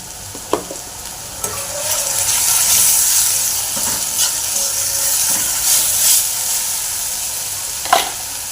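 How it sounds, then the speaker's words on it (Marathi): Chopped onion frying with a ground masala of garlic, coconut and coriander in a pan, a steady close sizzle with occasional spoon taps and stirring scrapes. "कांदा चांगला भाजून घ्यायचा आहे।"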